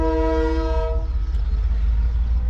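A Mohen Jo Daro passenger train at Habib Kot junction in Sindh gives a loud, steady horn blast for about a second, then a continuous low rumble of the running train fills the rest.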